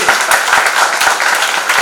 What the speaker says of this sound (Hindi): कुछ और जोरदार तालियां आनी चाहिए